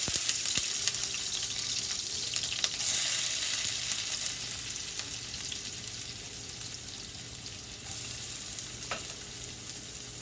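Onions fry in oil in a pot with a bright, hissing sizzle that is loud at first and slowly eases, broken by a few faint utensil clicks, with no one talking.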